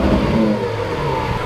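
A Lamborghini Centenario Roadster engine rumbles low and close while backing up a couple of feet, a steady throaty idle with a slight rev swell and no talk.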